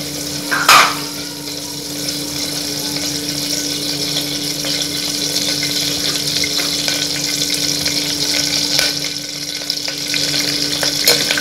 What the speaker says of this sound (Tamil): கடுகு தாளித்து கருவேப்பிலை கடுகு நன்றாக பொரியும் கருவேப்பிலை